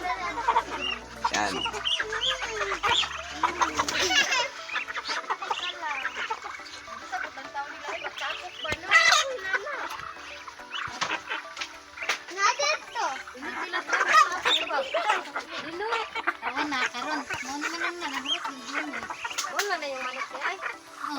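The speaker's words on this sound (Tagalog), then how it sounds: "yung mga manok at pato" Chickens and ducks cluck and quack busily at close range while feeding, the calls overlapping irregularly throughout, with occasional bursts of activity.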